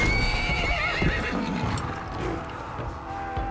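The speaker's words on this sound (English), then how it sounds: "Oh, horsey." A horse neighs and whinnies in a Viking-themed video game, with hoof clip-clops mixed in amid a busy game soundscape of music and effects, loud and close throughout.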